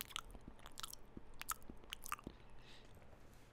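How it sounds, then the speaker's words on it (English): Close, crisp mouth sounds of someone biting and chewing banana, with wet smacking clicks and soft crunches in an irregular rhythm over a quiet background, no talking. "I could get some banana eating"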